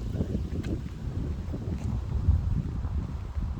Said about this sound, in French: Il fait du vent, il fait froid.